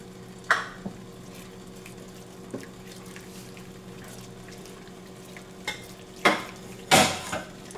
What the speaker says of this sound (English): I'm going to add in the capers.